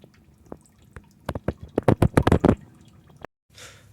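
Car radiator coolant dripping and trickling as the system drains during a full flush, a close run of irregular wet drips that speeds into a dense patter before cutting off.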